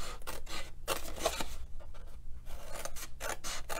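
Scissors cutting along score lines on paper for a Valentine candy bowl, a close, quiet series of crisp snipping and rasping strokes in short bursts with brief pauses.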